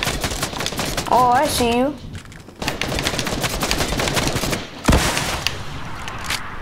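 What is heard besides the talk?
gunfire in Fortnite video game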